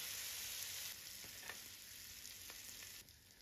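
Egg sautés lightly in a pan for a tikka-style dish, giving a steady, close sizzle with faint stirring scrapes and no voices.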